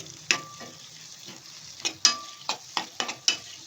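Curry leaves and turmeric stirred into dal in a pan for dal makhani, a soft sizzle broken by several sharp spoon knocks and scrapes against the pan, close and intermittent, with no voices.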